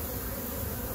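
Carniolan honey bees buzz in a dense, continuous swarm close by, a steady loud drone with no talking.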